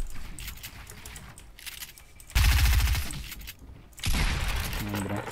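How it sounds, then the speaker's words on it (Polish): Bursts of gunfire in the video game Fortnite, with loud rapid shots in two clusters separated by quieter stretches of game sound. "jakieś strzały chociaż"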